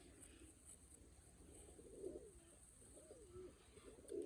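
A pigeon coos softly a few times, low and murmuring, close by against quiet background noise.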